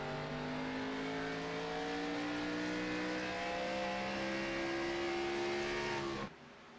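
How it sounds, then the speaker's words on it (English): A video game race car engine, the 9 car at Richmond, holds a high, steady whine that slowly climbs in pitch as it revs, then cuts off abruptly near the end. "And you can hear that 9 car is revved up."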